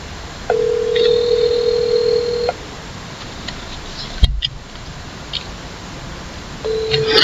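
A telephone call rings out in long repeating tones separated by silence, with a sharp click partway through, heard close and alone.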